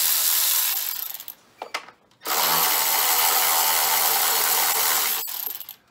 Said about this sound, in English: set my ratchet to loosen